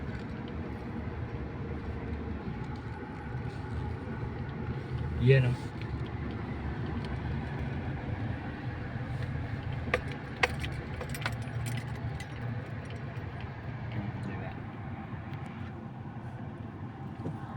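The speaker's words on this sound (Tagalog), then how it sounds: "Yung mga bus nila ang hahaba." Long buses pass along a road heard at a distance, a low steady rumble with a brief swell partway through and a few faint clicks, while a voice speaks briefly over it.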